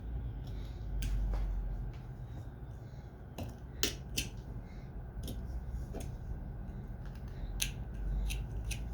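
Chisel cutting into a chunk of wood during hand carving, sharp crisp snaps and clicks at irregular intervals over a low steady background hum, close and fairly distinct.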